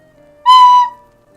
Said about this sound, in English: This is an old recorder, by the way.